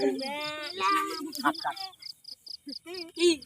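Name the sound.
crickets chirping at night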